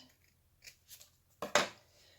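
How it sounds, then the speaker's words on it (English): Scissors snipping decorative paper for a journal, a few light cuts followed by two sharper, louder snips close by in a quiet room. "So I'm just going to snip that at the end."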